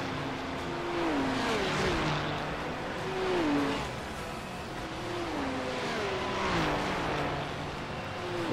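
A Ferrari 296 GT3 race car engine in iRacing at Road America, rising and falling as it shifts gears through repeated revving sweeps, steady and fairly loud, no talk.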